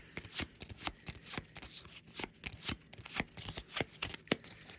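A deck of game cards shuffled repeatedly at a tabletop board game, a quick series of crisp riffling flutters and taps, close and fairly quiet, with no talking.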